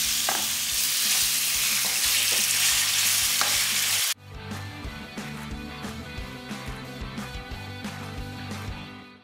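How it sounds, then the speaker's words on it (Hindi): Marinated chicken drops into hot oil in a kadai, a bright crackling sizzle at first, then a quieter steady frying with intermittent stirring clinks of a spoon. "ऑयल गरम हो गया है, अब हम डालेंगे इसके अंदर मैरिनेट किया हुआ चिकन।"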